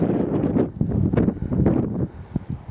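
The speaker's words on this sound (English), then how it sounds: "Shelter from the wind. Need that today, don't you?" Wind blowing across the rocky hilltop at Blackstone Edge, heard as a loud, continuous gusty rumble buffeting the microphone, with no talk.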